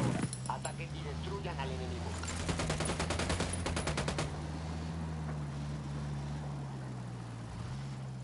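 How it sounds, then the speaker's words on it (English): Rapid automatic gunfire rattles out in Ghost Recon Wildlands, a dense burst of fast shots in the middle over a steady low engine drone, with a voice talking over the opening. "Open fire. I'm opening fire."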